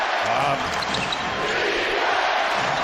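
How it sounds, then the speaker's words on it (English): Dense roar of a basketball arena crowd cheering late in an NBA game between the Clippers and Pacers, loud and steady throughout with a ball bouncing and a commentator talking over it. "Crowd loving it."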